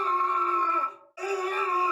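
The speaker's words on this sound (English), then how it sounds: "let me know if you'll never forget Isaac's scream for the rest of your existence" Isaac's strained, sustained scream from the Dead Space game, loud and close, broken by a short silence before a second drawn-out cry.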